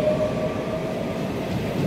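A train at Delft railway station rumbles steadily and close by, with a faint high wheel tone running through the continuous rolling noise.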